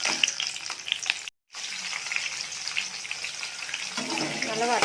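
Shallots, dried red chillies and urad dal sauté in hot oil for a manathakkali keerai poriyal, giving a steady close hiss and crackle that drops out briefly, then resumes and grows slightly louder.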